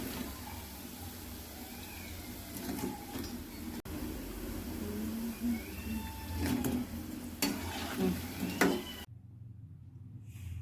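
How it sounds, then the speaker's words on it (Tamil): Cabbage and onion bonda dough dropped into hot oil, bubbling and crackling at low level with a few sharper pops and spoon clinks, then cutting to near silence at the end. "எண்ணெய் காஞ்சிச்சு, எண்ணெயில் போட்டுக்கலாம்."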